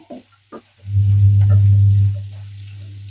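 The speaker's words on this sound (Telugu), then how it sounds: "ఇప్పుడు రొయ్యలు ఇందులో వేసేద్దాం అంతా ఒకసారి మిక్స్ చేసుకోవాలి" Dried shrimp are tossed into a pan of frying tender tamarind leaves and stirred. A couple of soft knocks come first, then a loud burst of close sizzling that lasts just over a second before easing off.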